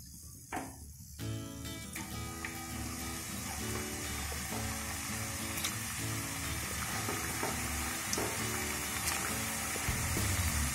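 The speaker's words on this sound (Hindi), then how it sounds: "तेल गरम हो गया है, अब इसमें खुरमा डालेंगे।" Khurma (shakarpara) dough pieces frying in hot oil, a close, steady bubbling sizzle that swells when the dough goes in and then continues evenly, with occasional light stirring clinks and no talk.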